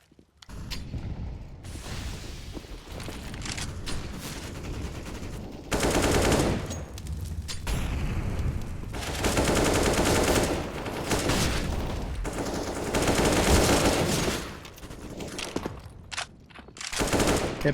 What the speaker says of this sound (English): multiple bullets being sprayed down through the smoking banana